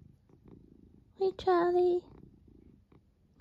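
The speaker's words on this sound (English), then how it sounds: "You might be able to hear some purring going on because behind me" Charlie the cat purrs nearby at home, a brief tonal burst rising out of soft low rumbling, with a voice speaking gently over it.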